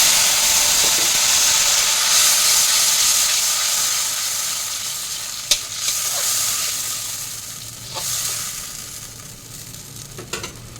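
Tomato sizzles and fries in hot mustard oil tempered with black cumin seeds in a kadai, a loud steady hiss with occasional sharper pops and stirring clinks, no voices.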